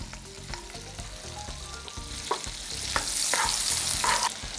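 Butter sizzles and spits as it heats in a kadai for curry, a low, close frying crackle that swells louder toward the end, with faint stirring clatter.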